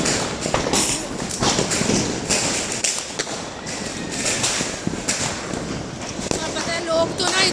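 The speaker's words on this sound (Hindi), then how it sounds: "पूरे आसमान में देखो बहुत पटाखे फोड़ रहे हैं और रॉकेट" Diwali firecrackers and rockets burst across the night sky, a continuous scatter of sharp pops, cracks and dull thuds at varying distances, with someone talking over them.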